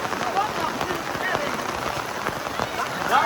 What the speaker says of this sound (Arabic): صارت مطرة قوية.